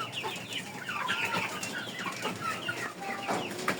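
Hens clucking as they feed on natural feed at a farm, a busy overlapping chorus of soft clucks and chirpy calls that runs steadily and fairly close throughout.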